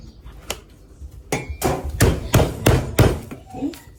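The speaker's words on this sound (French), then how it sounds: "Je prends ma petite hachette." Repeated blows of a small hatchet crushing food on a board in a home kitchen, about six sharp thuds in an uneven rhythm, loud and close with no talking.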